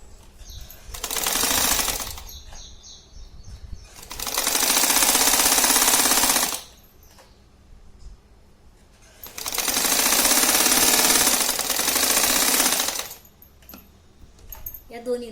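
A sewing machine stitches a reusable shopping bag in three long, loud, rapid runs of whirring stitches, each several seconds long, with quiet handling pauses between them.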